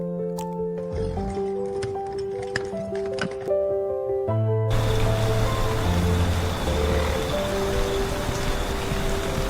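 Steady rain falls in a loud, continuous wash that covers the second half, after a stretch of gentle music.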